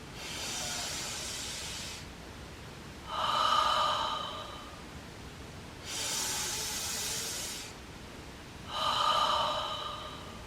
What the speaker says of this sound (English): Inhale, both nostrils, and out with a sigh.